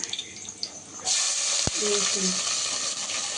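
Chopped onions and a green chili hit hot oil and burst into a loud, continuous sizzle after a quieter start, with a sharp utensil knock and some stirring on top.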